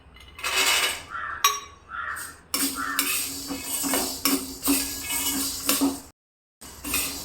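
Half a cup of almonds and peanuts going into a pan for curry leaf laddu, rattling and clinking against metal in busy bursts, with utensil scrapes and a brief pause near the end.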